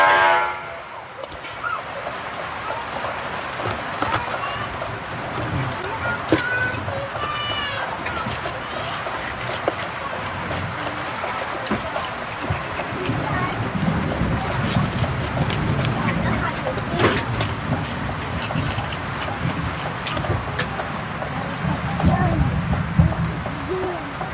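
Heavy rain pours down in a steady, dense hiss that runs unbroken from start to finish, with voices talking now and then beneath the downpour.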